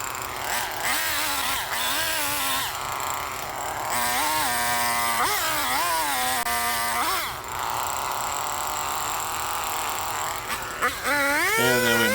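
A chainsaw runs while felling a small pine tree, its engine whining and rising in pitch through repeated revs and cuts, steady and fairly close throughout the clip, with some talk in the background.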